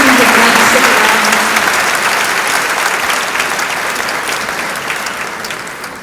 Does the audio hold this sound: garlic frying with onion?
no